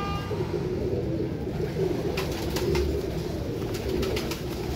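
Pigeons of the Tiger breed cooing steadily in a loft, low soft coos repeating throughout over a constant noisy background, with no talking.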